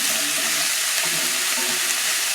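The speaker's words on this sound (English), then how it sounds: "Okay, so I've sauteed them and they've gotten a nice color on them." Hot dogs sauté in a hot pan with a dense, steady sizzle, loud and close, the hiss continuous with faint scraping underneath.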